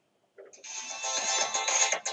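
A phone ringtone sounds during a game, a bright electronic melody that starts abruptly from silence and plays loud and close for a couple of seconds.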